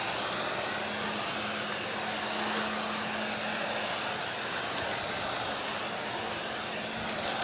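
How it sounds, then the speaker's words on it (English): Marolex Ergo 2000 pressurized pump sprayer misting Rage wheel cleaner onto a car wheel, a continuous close, loud hissing spray held steadily throughout. "I'm going to take my MAROLEX sprayer, the ERGO 2000, which is pumped up"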